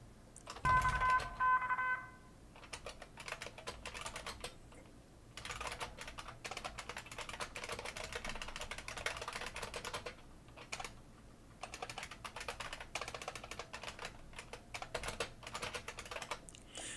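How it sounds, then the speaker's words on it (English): Steady, close typing on a computer keyboard runs almost continuously, with brief pauses and a short electronic tone near the start, during a severe storm risk broadcast. "You guys are going to hear me typing quite a bit as I also try to get warnings out on social media."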